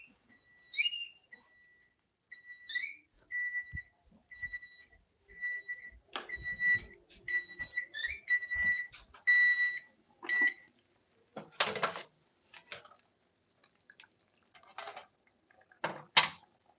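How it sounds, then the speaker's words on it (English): A kitchen timer for cooking chicken beeps in repeated short bursts of high electronic tones, with intermittent clattering and knocking noises in between, fairly close and alone without speech. "My buzzer's going off for my chicken."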